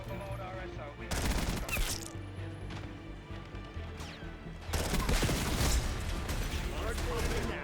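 Rapid SMG fire in Call of Duty Black Ops 6, loud, dense bursts of automatic shots with explosions and game announcer voice lines layered over the chaotic firefight.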